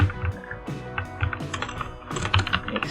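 Steady typing on a computer keyboard while writing a Python program, with close, clicky keystrokes in quick irregular bursts and occasional heavier key hits, and no talking.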